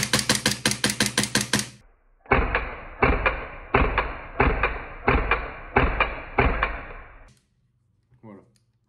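A VX9 airsoft pistol with a custom precut trigger fires a fast burst of about ten sharp shots, followed by seven heavier, evenly spaced mechanical bursts, then a short faint rattle at the end, loud and close.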